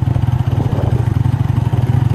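Motorcycle pushing through thick mud on a rural track, a loud close engine chugging steadily with a pulsing, labored rhythm throughout.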